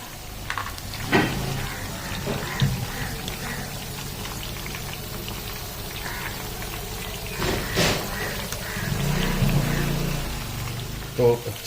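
Chicken sticks frying in hot oil on a gas stove at medium-low flame, a continuous crackling sizzle with occasional clinks and bumps.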